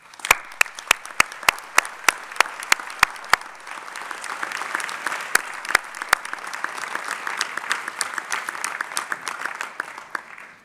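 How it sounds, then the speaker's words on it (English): Graduation-ceremony audience at the University of Sussex applauding families and friends: sharp, regular claps from a few people at first, swelling into broad, steady applause from a large hall before fading. "a round of applause for families and friends"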